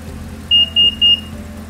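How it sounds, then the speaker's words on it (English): Curb Alert parking sensor on a C7 Corvette giving three short, evenly spaced high warning beeps over a low idling engine hum. "drive towards the box and listen for the warning beeps"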